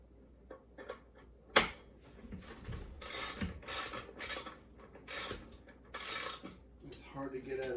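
Adjuster on a NordicTrack treadmill being tightened to tension the motor belt, giving a run of light metallic clicks and ratcheting ticks in short bursts, close up with no talking.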